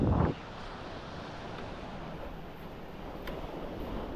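Wind rushes and big sea waves wash around a small wooden outrigger boat, a steady broad roar close to the microphone after a brief loud thump at the start.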